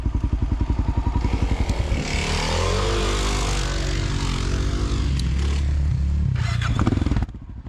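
A dirt bike fitted with a Tusk D-Sport rear tire revs hard off-road, engine roaring and surging close by with scrapes and clatter as it climbs, then dropping back to a throbbing idle at the end.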